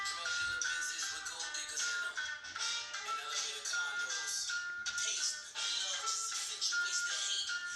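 A song playing at maximum volume through an LG G7 phone's loudspeaker while the phone is held in the hand, a bright, thin music track with a steady beat and no voices talking over it.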